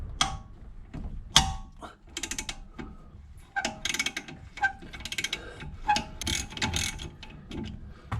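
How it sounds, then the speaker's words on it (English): A socket wrench ratchets and clicks in short bursts while undoing the brake caliper bolts on a Triumph TR7. Small metallic knocks of tool handling fall between the bursts, close by and fairly quiet. "Now we need to undo the two bolts on the back of the caliper."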